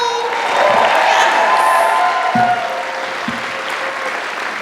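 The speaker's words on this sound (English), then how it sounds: "Clap it up one more time for Tyrone." Audience at a story slam event breaking into loud, sustained applause with cheering, a dense wash of clapping filling the whole stretch, with a couple of low thumps near the end.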